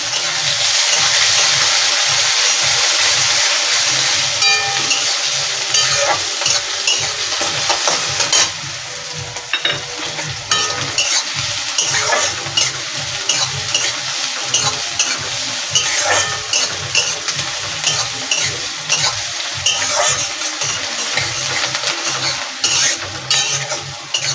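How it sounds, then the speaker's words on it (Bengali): Onions frying in hot oil in a pan while being stirred, a steady close sizzle with repeated scraping strokes of a spoon throughout, no voices. "পেঁয়াজটা লাল লাল করে একটু ভেজে নেব"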